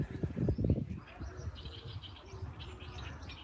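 Birds chirp in a city park at 6 a.m., scattered light tweets and calls over low rustling and a soft coo, with a brief flutter near the start; moderately close, no speech.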